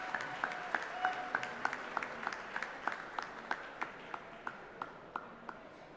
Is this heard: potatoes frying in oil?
no